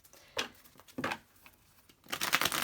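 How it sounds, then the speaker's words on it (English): Tarot cards are shuffled by hand at close range in short, crisp riffling bursts separated by brief pauses, ending in a longer run of quick flicking; no one speaks. "And give it a good shuffle."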